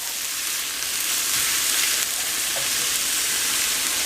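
About a heaping cup of vegetables sautéing in a pan for albondiga meatball spaghetti soup, giving a steady, close hiss and sizzle that holds even for the whole stretch, with no talking.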